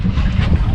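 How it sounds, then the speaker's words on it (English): Strong wind buffeting the microphone on a 4.95m boat out at the Montebello Islands, a loud, rough, continuous low roar with gusty fluctuation. "Hopefully this wind will bugger off and I can get out and have a bit of a fish"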